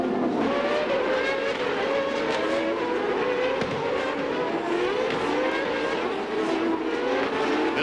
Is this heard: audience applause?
no